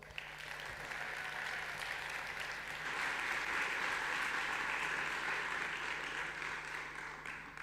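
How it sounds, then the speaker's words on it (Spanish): Audience applause at a conference talk at Expo EVA 2023 in Sala Argentina, CCK: steady, moderately loud clapping from a crowd, sustained for several seconds without talk. "Un aplauso."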